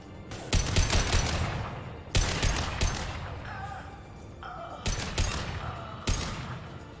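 Bursts of rocket blasts and gunfire in the Mass Effect 2 video game, loud explosive volleys recurring every couple of seconds with rattling shots between them, close and dense.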